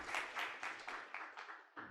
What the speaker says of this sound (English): I did instigate some clapping